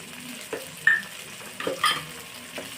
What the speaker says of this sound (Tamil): இதை நல்லா கலர் சேஞ்ச் ஆகிற அளவுக்கு நல்லா வதக்கி எடுத்துக்கலாம்